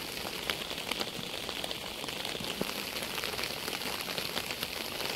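Heavy village rain drums down in a continuous close wash of patter, with scattered louder drops popping through the steady roar and no voices.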